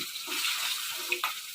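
Fish sizzles in a frying pan, a soft continuous hiss with faint bubbling and a small clink near the end, no voices.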